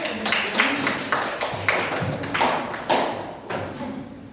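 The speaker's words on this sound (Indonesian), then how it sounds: "Beri tepuk tangan untuk kelompok 1." A classroom of students clapping for a presenting group, several bursts of fairly close, uneven hand claps with brief pauses between them, a little voice mixed in.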